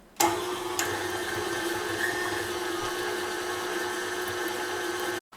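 Electric mixer creaming butter and sugar for a torta caprese, a steady, even motor whir with a faint tonal hum that runs continuously and close for several seconds before cutting off abruptly.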